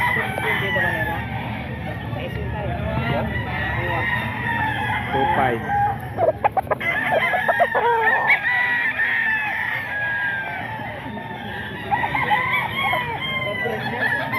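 Gamefowl roosters of the Raptor sweater breed, around six months old, crowing and clucking at a market, with repeated nearby crows and someone talking over them throughout.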